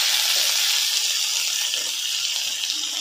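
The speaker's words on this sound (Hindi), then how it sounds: "गाजर डाल रहे हैं और अब हम इसको थोड़ा सा भूनेंगे" Chopped carrots fry in a pan with a loud, steady hiss and sizzle that holds constant throughout, close up with no break.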